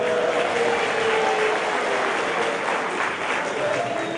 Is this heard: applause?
yes